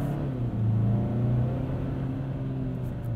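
A 2022 Hyundai Santa Cruz Limited with a 2.5-litre turbo engine and dual-clutch gearbox pulls steadily, its low engine drone rising slightly under acceleration as a continuous cabin rumble with no talk.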